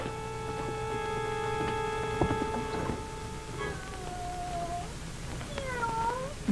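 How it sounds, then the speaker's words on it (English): A cat gives a few drawn-out, wavering meows over a steady electrical hum in an old television drama scene, fairly close and clear with no talking during the cries. "My cat, Redbird."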